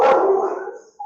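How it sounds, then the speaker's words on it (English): A single loud, close dog bark rings out and trails off over about a second, followed by the start of another bark. "Sorry about the dogs."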